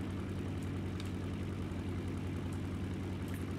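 A PB4Y-2 Privateer's piston engines droning in War Thunder as the throttle comes down, a steady low propeller rumble with a constant hum, continuous and close, no talk.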